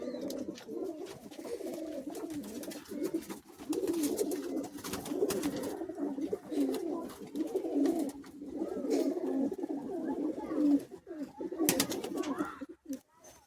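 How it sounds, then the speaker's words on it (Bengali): Pigeons in a loft in Bagnan coo continuously in overlapping, throaty rolling calls, close and fairly loud, with scattered clicks and rustles and occasional talk in the background. "এটা চোখের লাইনের পায়রা"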